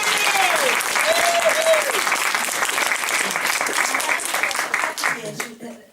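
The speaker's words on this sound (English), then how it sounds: "should we just give her a round of applause?" Crowd at the opening of a knitted flower pergola giving a sustained round of applause, dense clapping that holds steady and then tapers off, with voices talking over it.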